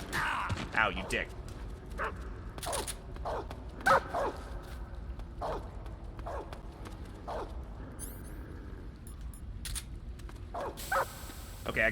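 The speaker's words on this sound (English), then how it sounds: "I can put the dogs to sleep with the cigarette spray" Guard dogs barking in the video game Metal Gear Solid 3: sharp, separate barks and yips repeat at irregular intervals over game background sound, with a voice talking in places.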